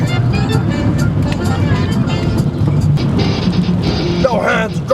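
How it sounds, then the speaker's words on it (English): A car drives along a bumpy road, its steady engine and road rumble filling the cabin while people talk loudly over it, with faint jolting thumps. "This is a bouncy road!"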